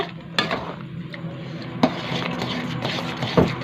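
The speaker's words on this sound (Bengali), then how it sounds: "এটা একটু ভালো করে নেড়ে নেব" A spoon stirs chira payesh, a Bengali flattened-rice pudding, in a pot: close scraping and rubbing with a few sharp metallic knocks against the pot's side, fairly loud and without talk.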